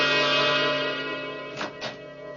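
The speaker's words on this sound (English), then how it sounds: "Doorbell." A doorbell chimes in an old radio mystery drama, a steady ringing tone with two brief struck accents near the end, alone with no talk.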